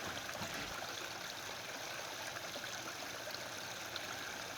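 Water pours steadily over a farm pond's overflow spillway after heavy rain, a continuous broadband rush that stays even and unbroken throughout with no voices.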